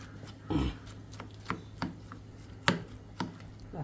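A knife chops watermelon into small pieces on a cutting board, a series of about six distinct close thuds at an uneven, unhurried rhythm.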